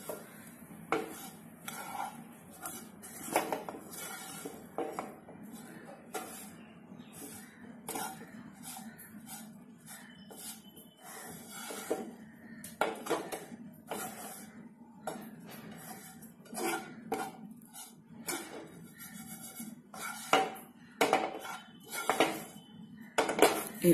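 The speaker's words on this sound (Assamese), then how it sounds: "একদম কম জুই দি অলপ অলপ ভাজি লওঁ" A metal utensil stirs and scrapes grated coconut as it fries slowly over low heat in a pan for coconut burfi, giving repeated irregular clinks and scrapes against a soft background.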